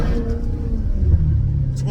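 Maserati GranTurismo S fitted with a Larini exhaust, heard from inside the car as a steady, throaty low engine rumble that swells slightly midway, continuous throughout.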